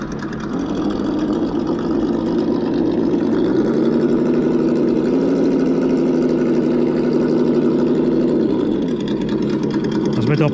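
The sound module of a TRX4M RC car gives a loud, steady simulated engine drone that climbs in pitch as it revs, holds, and then eases back down near the end.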